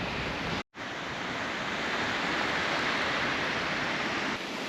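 Ocean surf washes steadily onto an empty beach at Mission Beach, a broad continuous roar of waves with a brief dropout near the start, no voices.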